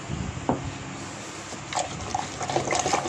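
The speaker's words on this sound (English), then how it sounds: "I need to put some water." Water being poured into plums for a natural plum jam, a brief close splashing and trickling of liquid over a few seconds, with no speech.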